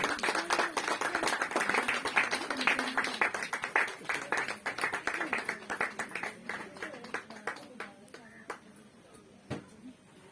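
A small group claps together after garlands are exchanged at a wedding ceremony, a steady patter of hand claps that thins out into scattered single claps, heard close and fairly quiet.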